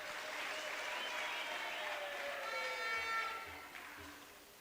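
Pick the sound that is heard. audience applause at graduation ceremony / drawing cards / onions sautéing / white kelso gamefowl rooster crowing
audience applause at graduation ceremony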